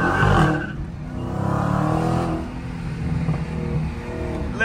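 A Dodge Durango Hellcat SUV accelerates hard through traffic, its supercharged engine rising in pitch, then easing before surging again, loud and close from inside the vehicle, with a brief louder burst near the start.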